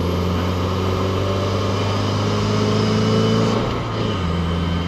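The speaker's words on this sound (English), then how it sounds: "It just thunk, thunk, thunk, thunk every single gear." A 2015-or-later Subaru WRX with a DarkMatterX DM-2 shifter drives through its gears, the engine climbing under steady load and then dropping at a shift, close and loud, with no talk over it.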